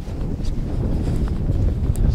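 Heavy, steady wind buffets the microphone with a low roaring rumble on a lake during a fishing trip, continuous and close, with a few faint knocks.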